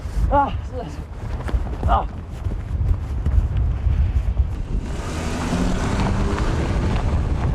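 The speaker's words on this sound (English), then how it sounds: "it really gets very windy up here" Steady wind roars and buffets across the microphone at high altitude in Jiaosu, Xinjiang, with a voice briefly heard at the start and rushing air building toward the end.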